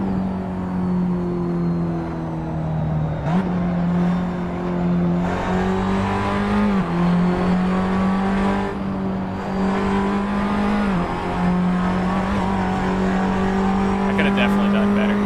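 Race car engine in a racing video game, a loud steady drone that shifts pitch as the car changes gear and revs through corners, continuous for the whole stretch under a player talking.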